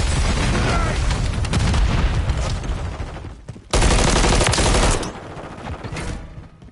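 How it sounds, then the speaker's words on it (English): Sustained bursts of automatic enemy gunfire in Call of Duty: Modern Warfare III, loud and dense, with a sharper, louder stretch of rapid fire partway through before easing off. "Enemy fire over here."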